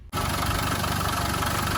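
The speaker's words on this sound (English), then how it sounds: "quick video of this 200 TDI 1992 Defender with the engine running hot" A 1992 Land Rover Defender 90 with a 200TDI diesel idles running hot after a short drive, cutting in abruptly into a steady, close, rattling low throb that holds evenly throughout.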